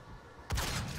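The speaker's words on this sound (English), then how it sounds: "That was an explosion." A sudden explosion from the video game Doom bursts in after half a second of quiet hiss, broadband and sustained to the end of the brief moment.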